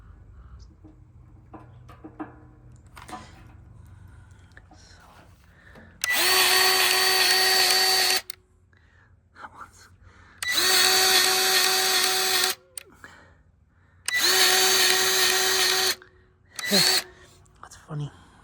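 A power drill bores through the pivot of a Bobcat skid steer grapple skeleton bucket in three loud, steady bursts of about two seconds each, with quieter speech and shop sounds between them.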